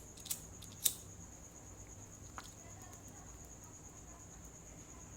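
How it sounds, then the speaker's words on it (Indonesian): A cigarette lighter is flicked a couple of times, giving sharp, faint metallic clicks close by, followed by a softer click later, over a steady high whine and quiet room noise. "nyolot korek dulu, nyolot rokok dulu"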